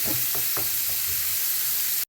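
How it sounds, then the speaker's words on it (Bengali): Pumpkin and bitter gourd fry in oil with turmeric and salt, giving a steady close sizzle with a few soft stirring scrapes early on, all without speech. "এটা ভালো করে ভেজে নেব।"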